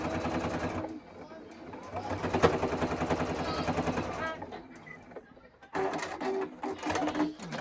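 A sewing machine top-stitching a zipper runs in fast mechanical bursts, pausing briefly in the middle before starting up again, with someone talking over part of it.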